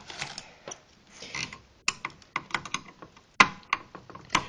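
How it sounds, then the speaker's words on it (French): Close, irregular clicks, scrapes and ratcheting taps as parts of a fax machine are unscrewed with a screwdriver, with sharper snaps standing out among the softer turning noises. "je m'empresse immédiatement de dévisser cette partie-là, ainsi que cette partie ici."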